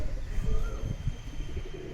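Pigeons coo softly in low, repeated murmurs at a moderate distance, over a quiet outdoor background with faint chirps.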